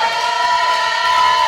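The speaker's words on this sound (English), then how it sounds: "So you guys stomp your feet, clap like you never have before" A comedy theater audience roars with dense, sustained cheering and shouting, loud and close with no break, in a brief burst of crowd noise.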